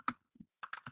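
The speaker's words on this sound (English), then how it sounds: "I'm typing in gravity detector" Keystrokes tapped on a computer keyboard, one sharp click, a soft pair, then a quick run of three or four clicks close by with no talk.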